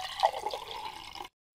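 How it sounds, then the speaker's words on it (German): Water pours into a glass with a gurgling, splashing stream that rises in pitch as the glass fills, then stops abruptly, leaving silence. "Wasser wird in ein Glas gefüllt."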